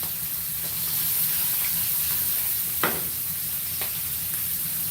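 Food frying in a small non-stick pan gives a steady, close sizzle and hiss throughout, broken by a couple of brief scraping stir sounds.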